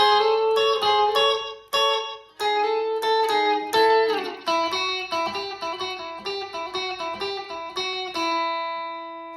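A clean electric guitar plays a bouncy, twangy rockabilly riff in A of plucked notes and short chords, close and clear with no voices.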